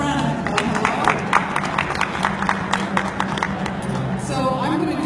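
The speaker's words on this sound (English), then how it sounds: "give a round of applause" Audience at an intellectual property roundtable gives a round of applause; steady, moderate clapping continues over crowd murmur and talk throughout.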